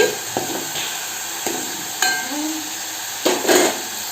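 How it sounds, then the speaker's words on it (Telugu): Onion paste frying over low heat in a pan while being stirred, with a steady soft sizzle and several scraping strokes of a spoon, including a louder clatter near the end; no talking. "ఆనియన్ పేస్ట్ మగ్గే వరకు సిమ్లోనే ఉంచుకొని తిప్పుకోవాలండి"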